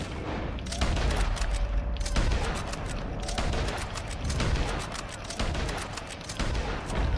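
Gunfire in the video game Red Dead Online, with dense, rapid volleys of shots that repeat in bursts over a steady loud rumble, close and continuous.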